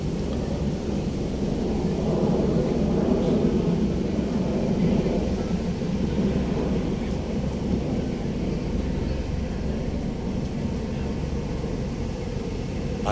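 A helicopter flies over Manila Bay, heard as a steady, broad, low rumble of rotor and engine noise that holds at a fairly even level throughout with no clear approach or fade.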